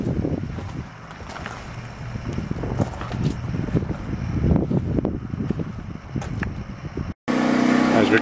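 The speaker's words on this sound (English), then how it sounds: "I know it's going to be loud with the generator going" A generator runs outdoors beside a 2013 Shadow Cruiser 314 TSB travel trailer, making a steady low rumble with gusty wind buffeting. After a brief dropout near the end, the rumble returns louder and closer.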